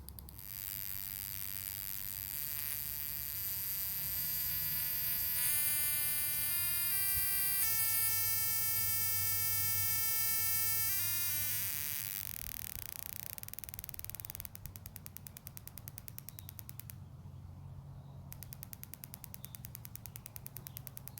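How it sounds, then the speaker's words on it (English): A spark plug tester firing old and new NGK spark plugs, one oil-covered, produces a rapid ticking, buzzing crackle whose rate climbs and shifts as the speed is raised, steady and close with an electrical hum underneath. "we'll be able to see and hear the spark plugs working"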